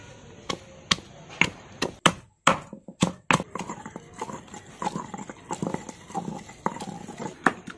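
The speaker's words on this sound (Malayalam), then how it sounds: "നമുക്കേ ഇഞ്ചിയും വെളുത്തുള്ളിയും കൂടെ ചതച്ചെടുക്കാവേ" Ginger and garlic crushed together in a kitchen: a series of sharp, close pounding thuds in an uneven rhythm, some blows heavier than others, with softer scraping taps between strikes.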